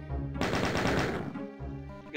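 Rapid gunfire in Doom II as imps are shot down, a dense burst of repeated shots for about a second, loud and close, then game ambience hums on.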